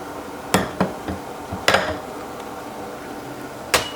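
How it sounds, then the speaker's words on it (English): Pizza sauce is ladled into prepared glass canning jars, giving a few sharp clinks and knocks of glass and utensil spaced irregularly, close and fairly loud against a quiet kitchen background. "we're going to fill these prepared canning jars to a 1/2 inch headspace"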